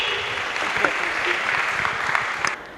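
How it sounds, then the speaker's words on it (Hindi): Loud, dense applause from an audience at a stage show welcoming a guest to speak, a continuous wash of clapping that holds steady and then stops abruptly near the end. "एक बार जोरदार तालियां हो जाए सर के लिए।"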